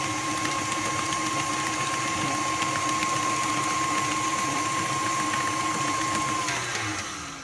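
An electric mixer whirs through Oreo cheesecake batter in a home kitchen, a steady mechanical hum with a thin high tone that holds for several seconds, then slowly eases off at the end.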